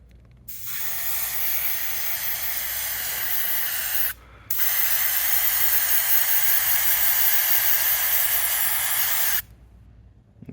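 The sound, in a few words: spray gun applying light coat to jet ski hull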